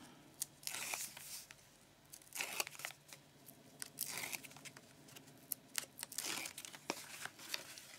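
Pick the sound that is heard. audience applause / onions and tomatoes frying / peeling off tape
peeling off tape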